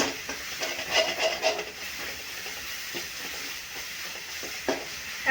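Chutney for Mumbai vada pav frying in a little oil, giving a steady, soft, hissing sizzle with a few faint stirring scrapes.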